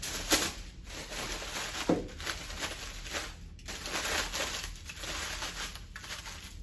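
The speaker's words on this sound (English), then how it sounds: "I found some aluminum foil, and I know it makes a funny sound when you use it too." Aluminum foil crumpled by hand in a home setting gives off a quiet, crackling crinkle for several seconds, with a few sharper pops and brief pauses between bursts.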